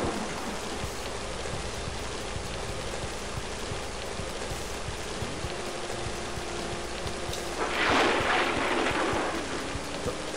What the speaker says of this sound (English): Why is it still raining?